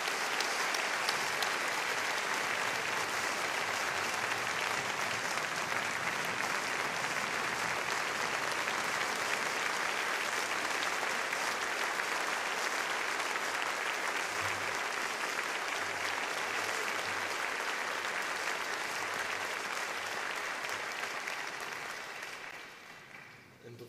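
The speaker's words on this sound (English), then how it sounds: "Can you give him a round of applause?" Sustained audience applause filling a hall at a GMA Hall of Fame induction for Rich Mullins, dense and steady for about twenty seconds before fading out.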